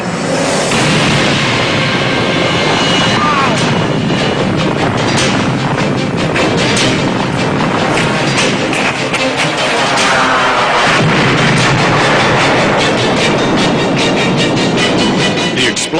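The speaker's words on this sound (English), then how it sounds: "the 4th and largest explosion erupts from the factory" The fourth and largest blast at the PEPCON rocket fuel factory, a continuous, heavy broadband roar that stays loud and dense throughout with no pauses, rumbling steadily from start to finish.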